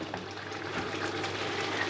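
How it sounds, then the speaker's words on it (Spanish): Hot water is poured into a pan of creamy mushroom rice, a soft continuous splashing and pouring rush with a faint sizzle, steady and fairly quiet. "A continuación le añadimos el agua"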